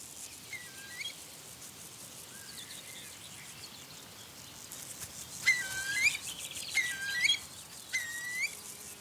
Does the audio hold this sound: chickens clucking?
no